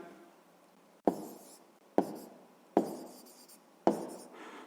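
A pen scratches on paper while an answer to a sixth-grade maths exercise is written down, four sharp strokes each followed by quieter scratching, close and faint.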